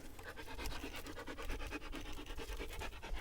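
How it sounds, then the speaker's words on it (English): A dog waits in the heat by a truck, panting quickly and continuously, close but fairly faint, with scratchy rustling mixed in and no talk. "Ma'am, your panting is ruining the shot."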